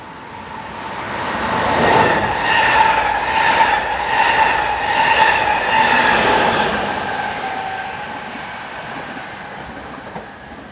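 A Belgian Class 19 electric train on a Tongeren to Blankenberg service passes close by, a loud rolling rumble with rhythmic wheel clatter and a tonal motor whine that swells, then fades away.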